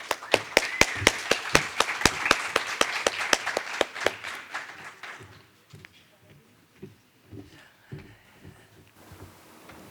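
An audience at an evening education event bursts into steady, rhythmic clapping, loud and close for about four seconds before thinning into scattered claps beneath murmuring voices.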